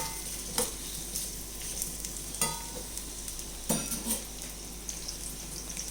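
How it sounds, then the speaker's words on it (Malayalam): Steady sizzling of mango pieces sautéing in a pan, with a few sharp stirring scrapes and clinks breaking through at intervals. "അപ്പോഴേക്കും നമ്മുടെ മാങ്ങ ഇവിടെ വാടിക്കൊണ്ടിരിക്കുന്നുണ്ട്"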